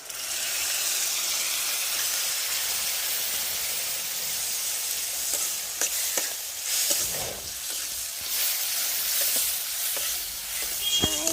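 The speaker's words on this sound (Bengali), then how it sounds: "এবার আমার যে মশলাগুলো পেস্ট করেছিলাম সেই মশলাগুলো আমি এতে দিয়ে দেবো তেলে।" Ground spice paste added to hot oil for a marinated meat curry, giving a loud, continuous close sizzle and hiss with scattered crackles and stirring scrapes throughout.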